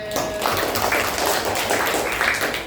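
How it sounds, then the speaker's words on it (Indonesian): A classroom of fifth-grade students clapping together, brisk overlapping hand claps that continue steadily and close throughout, with no talk heard over them. "Tepuk tangan dong buat siswa kelas 5D."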